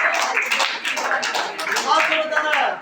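A quiz contest audience claps in a lively, close burst of applause that keeps going throughout, with voices mixed in underneath the clapping.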